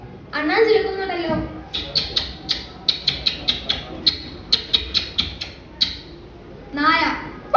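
A voice imitating a squirrel's chatter in a mimicry performance, a rapid run of sharp, evenly spaced chirps in the middle, framed by short spoken phrases before and after.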